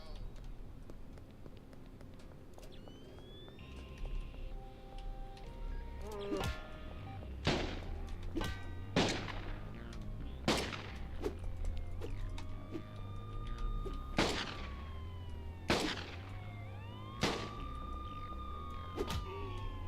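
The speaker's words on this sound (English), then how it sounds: "Why are they shooting?" Gunfire aimed at the player in a video game, a series of distinct sharp shots at irregular intervals of a second or two, fairly close, over faint background ambience.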